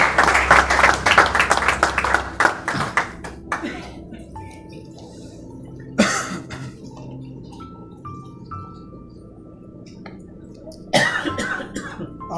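Audience applause in a church service welcoming a pastor, a burst of clapping at the start that fades into a quiet room with occasional coughs and thumps, then a short renewed burst near the end.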